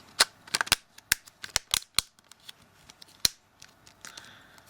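A plastic back cover snapped onto a Samsung Galaxy S3 phone gives a series of sharp, close clicks in quick irregular succession, then a few quieter taps.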